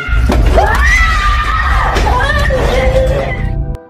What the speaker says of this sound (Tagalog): rinig na rinig ang boses ng batang sumisigaw sa mismong loob ng bahay